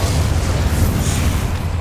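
The Incendio fire spell erupts in Hogwarts Legacy as a loud, close, continuous roaring whoosh of flame with a heavy low rumble, lasting under two seconds.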